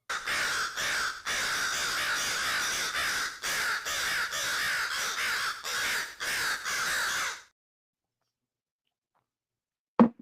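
A crow caws repeatedly in a loud, rasping, close-up sound effect, with many harsh calls in quick succession for several seconds, then silence and one brief final burst at the end.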